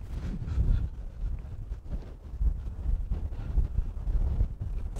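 Wind gusts across an outdoor golf course, buffeting the microphone with a continuous low, rumbling roar that swells and dips without pause.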